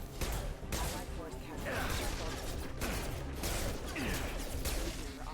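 Rapid bursts of gunfire in Mass Effect 2 with clattering impacts and whooshes, loud and continuous over several seconds, with a voice talking at times.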